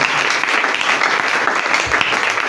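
A church congregation breaks into sustained applause during a French-language sermon, steady dense clapping filling the room for a couple of seconds with a faint voice underneath.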